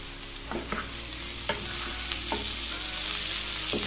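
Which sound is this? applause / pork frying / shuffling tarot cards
pork frying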